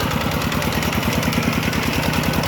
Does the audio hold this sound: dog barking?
no